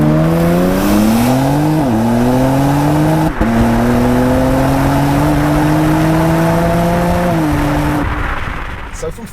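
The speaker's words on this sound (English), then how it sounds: "with the car in its sportiest settings, I'm just going to let it change gear. We're going to see what it revs to" A BMW X4 M Competition in its sportiest settings accelerates hard from first gear, the engine note climbing steadily and shifting up through the gears in several rising sweeps, loud and close with brief drops at each change.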